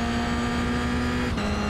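Toyota GR86 engine in the iRacing sim droning steadily at high revs, then briefly cutting out as traction control intervenes and picking back up, loud and close with no talk.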